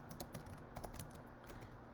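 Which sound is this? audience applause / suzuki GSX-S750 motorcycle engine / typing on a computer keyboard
typing on a computer keyboard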